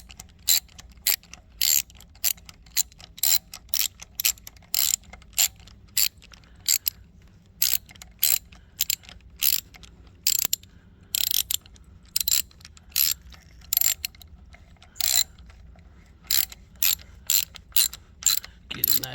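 A ratchet clicks in quick rapid bursts while tightening a housing on a Dodge Challenger RT, loud and close, with short pauses between runs of sharp clicks over a low background hum.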